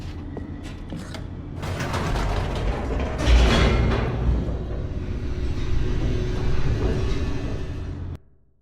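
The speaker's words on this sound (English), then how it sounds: "The elevator raced downward," An elevator descends in The Stanley Parable with a mechanical rumble, clanks and creaks that swell and grind for several seconds before cutting off abruptly.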